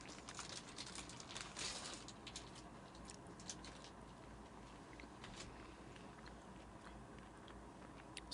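Crisp crunching bites into a churro-flavored snack, close and dry, with irregular bursts of chewing that fade to quieter mouth sounds.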